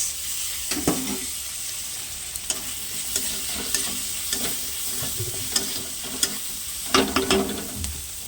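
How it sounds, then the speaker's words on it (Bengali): Shrimp frying with spices in a hot pan, a steady close sizzle with occasional stirring scrapes and clatters of a utensil against the pan throughout. "মশলা ভাজা হয়ে গেছে দিয়ে দিচ্ছি চিংড়ি মাছ"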